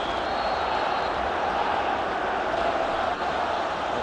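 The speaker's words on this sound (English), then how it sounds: "he's certainly brought the crowd to its feet" A large football stadium crowd at a Rangers match against Steaua Bucharest roars steadily after a goal, a dense, loud, continuous wash of cheering with no breaks.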